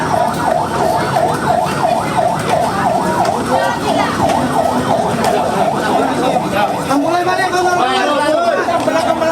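Several ambulance sirens wail in overlapping cycles at a train crash site, loud and close, with people talking and chattering underneath throughout.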